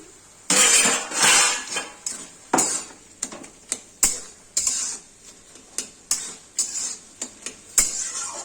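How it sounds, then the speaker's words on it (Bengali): A metal lid clanks off a pan of frying bathua greens, followed by a run of sharp utensil clatters and scrapes against the pan, loud and close, with no talking. "এবার ঢাকাটা তুলে দেখি"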